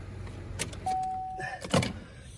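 A 2013 Chevrolet Cruze 1LT being shut off, with a short mechanical whir, a faint click and a brief rattle of keys, heard up close and fairly quiet.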